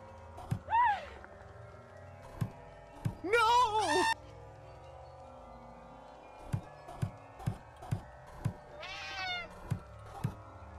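Cat meows from the video game Friday the 13th: Killer Puzzle, several distinct rising cries spaced out between sharp thunks and knocks of game action.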